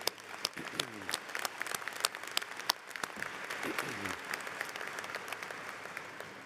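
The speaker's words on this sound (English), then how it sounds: "How about a round of applause?" A commencement crowd applauds KCU graduates in Joplin, a steady wash of clapping with sharp individual claps standing out and a few voices calling out over it.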